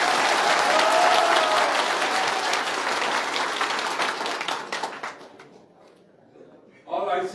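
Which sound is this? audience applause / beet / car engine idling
audience applause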